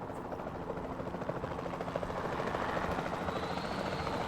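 A capture team helicopter in Jurassic World Evolution 2 flies overhead with a steady rotor chop and engine drone that builds slightly in loudness, continuous and without talk.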